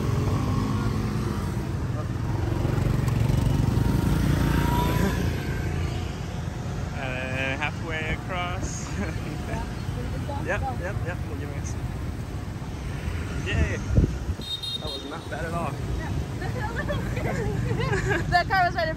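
Busy Hanoi street traffic with cars and motorbikes streaming past, a continuous close engine rumble with occasional horn-like tones, while people talk over the noise.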